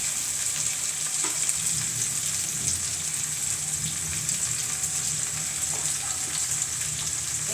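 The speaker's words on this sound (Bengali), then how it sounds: "আমগুলো 5 মিনিট নাড়ার পর এবার আমরা এখানে হলুদ আর মরিচের গুঁড়া দিয়ে দেব।" Half-ripe mango pieces for a sour, spicy and sweet pickle being stirred in a frying pan, a constant soft sizzle with faint scraping stirs, steady and close with no talk.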